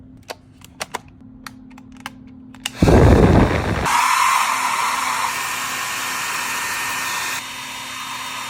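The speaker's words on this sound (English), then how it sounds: "but the blow dryer isn't doing the job" A handheld blow dryer defrosts a mini fridge freezer: a few sharp clicks come first, then the dryer switches on with a loud, steady close-up roar that runs to the end, easing slightly in level near the finish.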